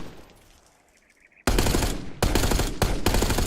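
Automatic gunfire in Call of Duty Black Ops 6, played on a PlayStation Access Controller: after a quiet lull, loud close bursts of rapid shots start abruptly and continue with brief gaps.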